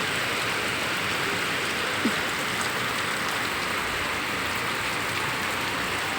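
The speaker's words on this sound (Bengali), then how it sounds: "ঝমঝম করে বৃষ্টি হচ্ছে" Heavy rain pours down steadily, a dense, unbroken hiss of drops drumming on surfaces, with no voices.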